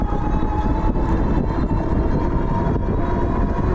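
An AMYET S8 dual-motor e-bike with twin 1000W motors, switched into all-wheel drive, accelerates under throttle with a steady, loud motor whine layered over dense rumble, continuous and close.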